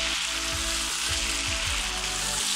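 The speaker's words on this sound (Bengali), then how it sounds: "করে মাংসের গায়ে ঝলসানো একটা টেক্সচার চলে আসবে।" Chicken sears in a kadai with cumin, giving a loud, steady sizzle and frying crackle that runs without a break, with a few soft stirring knocks underneath.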